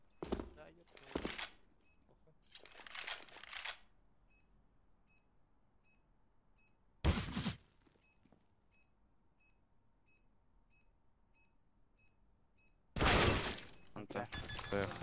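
Counter-Strike C4 bomb beeping, faint regular beeps repeating through the clip beneath bursts of loud gunfire and excited voices of players talking.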